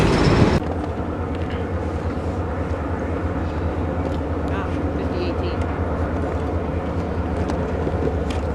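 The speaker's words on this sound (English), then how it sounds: "we see the Lehigh Gorge Scenic Railroad performing their own winter excursion, passing over the Lehigh River" The Lehigh Gorge Scenic Railroad train on a winter excursion crosses a bridge over the Lehigh River, giving a steady low rumble of rolling wagons at a distance after a brief louder burst at the start.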